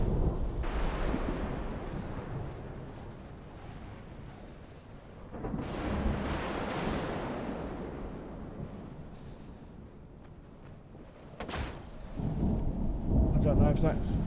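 Rumbling thunder rolls through a video game thunderstorm in several long, heavy waves over steady rain-like noise, loud and booming, with a final rumble building toward the end.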